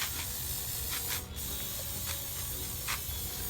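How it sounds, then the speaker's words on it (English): Short bursts of aerosol spray hiss repeatedly as a shiny top coat is sprayed onto a plate, with brief pauses between them, fairly quiet and close, with faint mechanical clicks. "So we're gonna spray right now."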